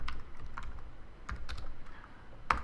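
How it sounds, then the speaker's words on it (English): Typing on a computer keyboard while working in a WordPress block editor, with a few sparse, quiet key clicks spread out at irregular intervals and a sharper keystroke near the end. "typing"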